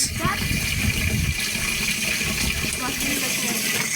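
Mountain spring water running from a tap piped down from the hillside, a steady gushing, splashing flow at close range, with people talking over it.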